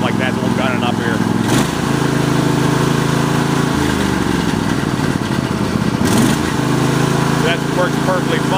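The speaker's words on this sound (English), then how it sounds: "Engine still sounds okay, even though it has a little bit of a rattle from the muffler" An MTD lawn tractor engine revs loudly and steadily, its pitch rising and falling between throttle bursts, with a slight rattle from the muffler running through the drone.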